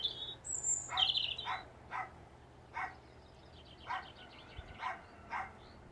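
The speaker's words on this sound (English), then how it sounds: "So let the dog bark," A dog barks outdoors in a rhythmic series of about eight sharp, mid-distance barks, with birds chirping at the start and a faint low hum underneath.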